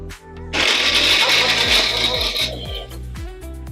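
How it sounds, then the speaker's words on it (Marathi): A mixer grinder grinding roasted coconut into paste starts abruptly and whirs loudly for about two seconds, then winds down, with a steady low tonal hum underneath. "आपण आता मिक्सरला ह्याची पेस्ट करून घेणार आहोत"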